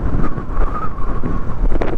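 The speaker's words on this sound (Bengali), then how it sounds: "বাতাসটা কি, বাতাস উড়ালিয়ে যাচ্ছে" Strong wind near Kagbeni village in Upper Mustang, Nepal, buffets the microphone with a loud, continuous low roar and gusty rumble, no voices heard.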